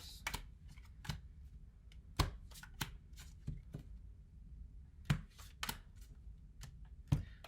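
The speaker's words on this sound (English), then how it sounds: "Sometimes I wish I was quicker at shuffling or whatever" Tarot cards being shuffled by hand, heard as scattered soft riffles and sharp taps in irregular bursts, close and quiet with no talk.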